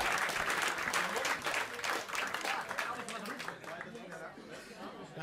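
An audience applauds a performer at a Dutch comedy-music show, with dense sustained clapping, scattered chuckles and crowd chatter, tapering slightly toward the end.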